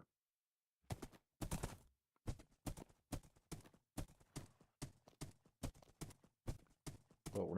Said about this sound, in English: There's always pretty horses that spawn over here.